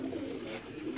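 A purebred pigeon kept as show-quality breeding stock cooing softly close by, a brief low murmuring call filling the whole moment.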